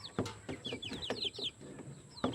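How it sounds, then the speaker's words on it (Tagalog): Chicken in a cage making a quick run of clucks and chirpy calls, close and fairly loud, with brief sharp bursts scattered through and no talking. "Kakagulat yung manok na yun ah."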